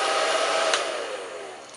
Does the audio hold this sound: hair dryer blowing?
yes